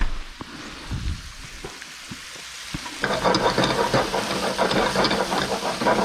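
Mushrooms frying in a hot pan: a quiet sizzle with occasional stirring clicks, rising after a few seconds into a louder, steady crackling sizzle as the food settles into the oil.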